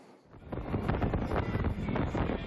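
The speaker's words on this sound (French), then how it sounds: "Les confettis emportés par le vent." Wind gusts buffet the microphone outdoors at a carnival parade while confetti blows about, producing a loud, steady rumbling roar that swells and holds throughout.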